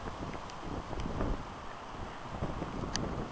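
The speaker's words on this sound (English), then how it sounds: "The wind is blowing." Hurricane Ike wind in Friendswood, Texas, buffeting the microphone as a dense, continuous roar with gusty swells and faint rattles, loud and close throughout.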